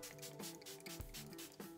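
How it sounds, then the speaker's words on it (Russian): Setting spray misted from a Fixit spray bottle mixed with metallic pigment onto a face, heard as a series of soft, close hissing pumps in quick succession. "Фиксируем и фиксируем тем же спреем, который мы наносили до этого."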